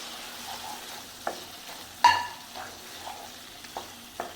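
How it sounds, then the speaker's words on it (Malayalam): Quiet sizzling as fried squid is added to masala in a pan, broken by a few sharp scrapes and clinks of stirring, with no talking. "ഇതിലേക്ക് നമുക്ക് വറുത്ത് വെച്ചിരിക്കുന്ന കണവയും കൂടെ ചേർത്ത് കൊടുക്കാം."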